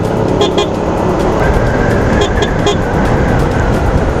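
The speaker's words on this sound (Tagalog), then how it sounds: "So yun po yung tunog niya kanina ng binusina ko." A few short toots from an aftermarket compact car horn with a blend of high and low tones sound among steady road and engine noise, in brief repeated bursts while cruising at about 71 to 72.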